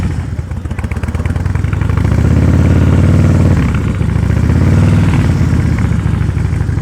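A motorcycle ridden at slow speed under steady throttle, its engine a close, loud, continuous drone that rises and dips slightly as the rider works the throttle.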